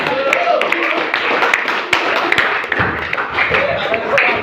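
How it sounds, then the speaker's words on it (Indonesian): Classroom applause with hands clapping steadily and densely for several seconds at an Indonesian school lesson, loud and close, with a few sharper claps standing out. "Tepuk tangannya, Pak."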